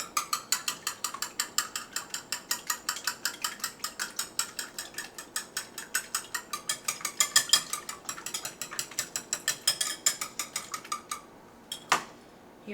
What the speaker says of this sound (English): I'm going to use this whisk to beat them, scramble them all up.